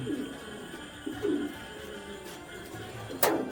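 Big house pigeons cooing nearby in a few soft, low bursts spread over a few seconds, with a sharp, brief sound near the end.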